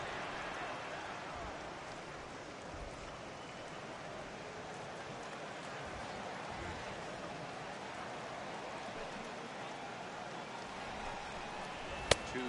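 Steady rain pouring down during a baseball game in MLB The Show 18, a constant broad hiss of falling drops throughout, with a single sharp click near the end.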